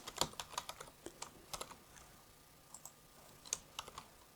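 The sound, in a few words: typing on a computer keyboard in Excel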